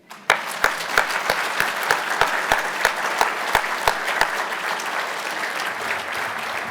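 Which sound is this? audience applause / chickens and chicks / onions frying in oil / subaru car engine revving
audience applause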